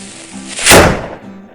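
A firecracker bursts in snow in a Lego animation scene, one loud, close bang with a short rumbling tail and no talk.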